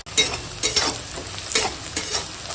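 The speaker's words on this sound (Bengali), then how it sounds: "পেঁয়াজটাকে ভেজে নিই" Onions frying in a pan while being stirred, with a steady close sizzle and repeated scraping stir strokes that come in rhythmic bursts, no talking.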